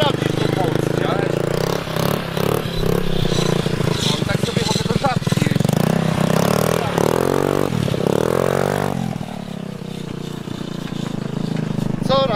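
A small two-stroke scooter engine fitted with an Akrapovič exhaust buzzes and revs up and down repeatedly, close and loud, with rattling clatter and voices talking over it.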